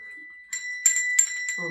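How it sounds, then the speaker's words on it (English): A small bell rung during a children's listening game with musical instruments, giving a few bright metallic strikes with ringing overtones, close and clear; a voice speaks at the end. "that's our bell"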